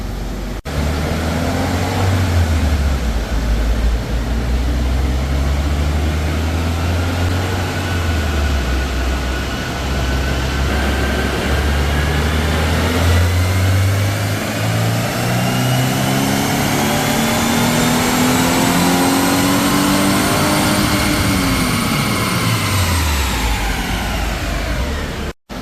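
A stock 2023 Subaru WRX on a dyno, with a cooling fan blowing, makes one long wide-open pull: the engine note climbs steadily in pitch to a high rev peak, then drops away as the throttle closes.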